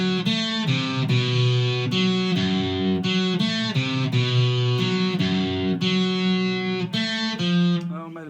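Distorted electric guitar plays a riff, picking notes that skip across strings, steady and loud with continuous sustained tones and no talking.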